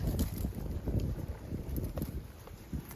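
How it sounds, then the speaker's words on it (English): Wind gusts buffet the microphone outdoors on a stormy day in a goat pasture, a steady rumbling roar with irregular swells and no talking. "Apologize for the wind."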